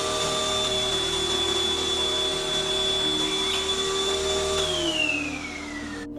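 A vacuum cleaner running on its own in a house, recorded by a CCTV camera: a steady, loud motor whine that holds level, then drops in pitch and fades slightly near the end, with no voices.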